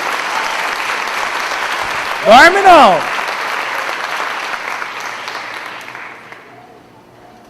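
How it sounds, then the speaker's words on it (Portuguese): A church congregation breaks into applause, loud and steady close by, while someone speaks briefly over it with a sliding vocal exclamation; the clapping fades out over the last seconds. "Então dê uma salva de palmas"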